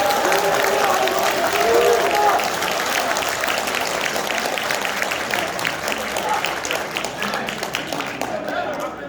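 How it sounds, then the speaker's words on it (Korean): A large crowd at a People Power Party members' convention gives sustained loud applause, a dense wash of clapping that fades slightly toward the end with crowd noise mixed in. "모두 동의하시면 큰 박수 한번 보내주시기 바랍니다"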